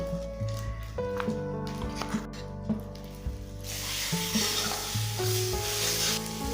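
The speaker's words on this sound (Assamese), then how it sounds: "এতিয়া মই মছলাটো ফ্ৰাই কৰি থাকিম।" Spice masala fries in a pan for a paneer curry with melon seeds, poppy seeds and cashew paste. A steady sizzle with occasional stirring scrapes plays under background music and grows louder and hissier in the second half.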